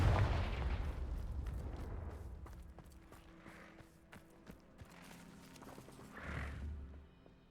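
A Confringo fire spell cast in Hogwarts Legacy: a loud, booming blast at the start that decays into rumbling, followed by a couple of smaller thuds and a later burst.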